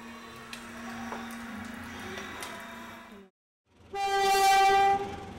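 A train rolls past on the railway tracks beside dwellings in Santa Mesa, Manila, a loud rumbling pass that briefly cuts out before a strong, sustained horn blast sounds nearby.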